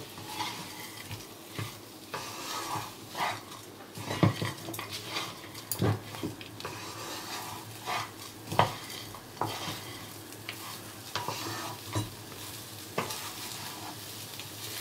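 Bengali-style chicken ghanto being stirred with rice in a pot: repeated irregular spoon scrapes and knocks over a constant moderate sizzle, close and clear for about fifteen seconds.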